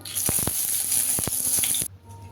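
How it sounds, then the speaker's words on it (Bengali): Bay leaves sizzle in hot oil for a vegetarian potato and pointed gourd curry, a bright continuous crackle with a few sharp pops and spatters, cutting off abruptly near the end. "এবার তেজপাতা দিয়ে দিলাম তেলে"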